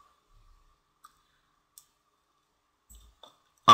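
A computer mouse clicks a few times during video editing in Sony Vegas, sparse faint ticks in near silence ending in one louder, sharper click.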